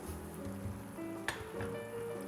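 A pot of sugar syrup with a touch of lemon boils quietly, giving a soft bubbling and simmering texture with one brief sharp clink partway through. No voices.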